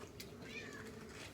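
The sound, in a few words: cat meowing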